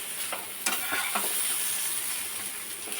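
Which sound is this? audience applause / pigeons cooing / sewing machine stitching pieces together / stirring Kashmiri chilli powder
stirring Kashmiri chilli powder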